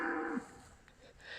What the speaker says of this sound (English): I appear to have upset a field of cows, and they're terrifying.